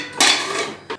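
A pressure cooker used for pav bhaji vegetables is opened after cooling, giving a sharp metallic clank of the lid followed by a brief second clatter.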